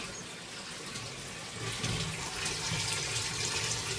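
Water gushes into a household storage tank from an electric motor pump, a steady splashing fill that swells louder partway through and carries on without voices.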